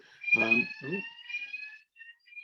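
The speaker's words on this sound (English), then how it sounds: "I've now got a fire alarm going off. It's a test" During a test, a fire alarm sounds a high, steady electronic tone that repeats in pulses, while a person speaks briefly over the start of it.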